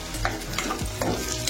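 Sliced okra is stirred with Kashmiri red chilli powder, turmeric and red chilli in a hot pan, with close scraping strokes over a steady low sizzle and several distinct spoon passes.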